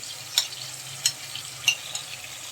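Onions fry in a pan as spices are added, a soft sizzle with three or four sharp spatula scrapes spaced about half a second apart, close and brief.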